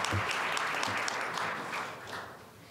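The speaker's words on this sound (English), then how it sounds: "A round of applause for Tito and Ravi." An audience at an innovation showcase session gives presenters a smooth, sustained round of applause that fades gradually, with no talk over it.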